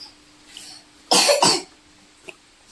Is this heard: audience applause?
no